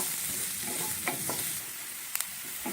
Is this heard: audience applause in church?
no